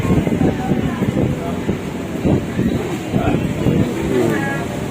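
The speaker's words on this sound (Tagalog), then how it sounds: "lumalakas na talaga guys yung hangin" Strong gusting wind from a typhoon buffeting the microphone with a low, roaring rumble, while people queuing outside a food stall in Pasay City talk underneath.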